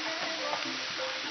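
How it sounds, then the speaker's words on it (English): Onion, meat and garlic sizzle steadily in a hot pan while being stirred, a soft, even frying hiss with faint scraping, fairly quiet and close. "So you stir together your onion, your meat, and your garlic."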